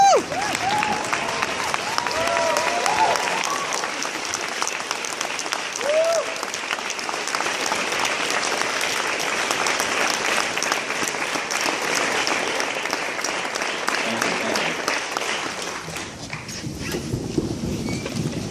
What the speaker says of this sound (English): give a big round of applause again